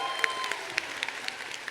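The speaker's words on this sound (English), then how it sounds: "Let's give a round of applause for that" A small audience at a BronyCon convention panel claps steadily, with sharp individual hand claps standing out over a continuous patter.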